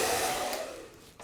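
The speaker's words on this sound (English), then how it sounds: "It's good to run the dryer through" A hair dryer blows in a steady broadband rush during a celebrity hair styling session, loud and close at first and easing slightly before cutting off near the end, with no talk over it.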